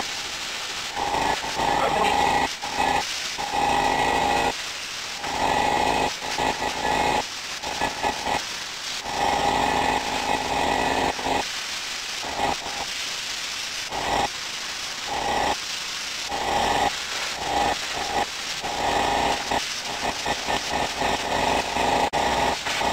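A plasma cutter slices through metal with a loud, close, broadband hissing roar and a steady whine, broken by frequent short gaps over about twenty seconds.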